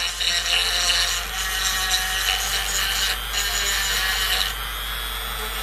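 A power tool files and smooths the edges of acrylic lower dentures, giving a steady, continuous high-pitched grinding whine close by, holding level throughout with a slight change in tone near the end.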